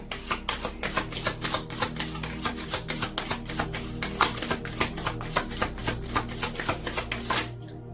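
Chakra wisdom cards are shuffled close up in a fast, even run of crisp riffling slaps that continues for several seconds before stopping abruptly.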